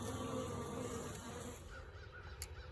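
A honeybee swarm hums in a dense, steady drone around its queen at sundown, the buzzing close and continuous, with a brief sharp sound near the end.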